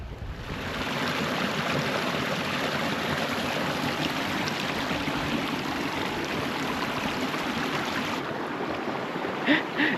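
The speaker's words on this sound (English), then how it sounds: "Yeah, you can just hear the mountain stream" A mountain stream in a foggy valley rushes and splashes steadily and close, a dense, even wash of flowing water that carries on throughout with no voices over it.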